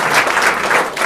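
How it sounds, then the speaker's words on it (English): An audience of a large group claps in sustained, even applause, a dense steady patter filling the room. "Give him a round of applause, please."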